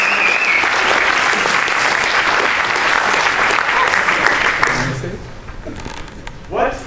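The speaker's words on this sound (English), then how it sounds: "So, warm round of applause for Lindsay." A lecture audience in a physics talk series breaks into loud, dense applause that holds steady, then fades out as a speaker's voice starts.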